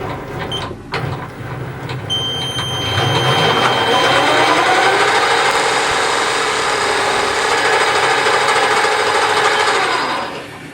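A 3mm drill grinds into metal for a compact power hacksaw's dashpot damper with a steady, high whine that holds for several seconds after a few short starts, then tapers off.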